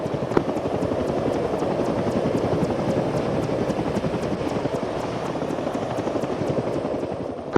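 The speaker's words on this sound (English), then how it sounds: "I think the heli's off to the airfield." A helicopter in the military video game Arma 3 gives a continuous, loud rotor thump with a rapid regular beat that holds steady throughout, with no voices.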